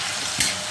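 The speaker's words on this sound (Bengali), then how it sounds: "দিয়ে ভালো করে নাড়াচাড়া করে নেব" Turmeric and red chili powder fry in hot oil for a Bengali egg curry, giving a dense, loud, continuous sizzle with a couple of brief stirring scrapes, close up, with no voices.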